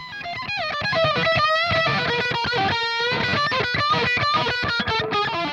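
Heavily distorted electric guitar through a Seymour Duncan Warren DeMartini RTM humbucker pickup, with a thick, saturated tone playing chords and riffs continuously, loud and dense throughout.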